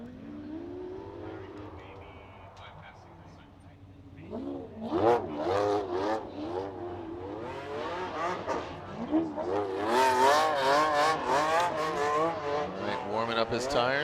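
A Formula Drift car at 2019 Orlando qualifying revs hard while warming its tires, its engine rising and falling in repeated wailing surges, partly under commentators' talk.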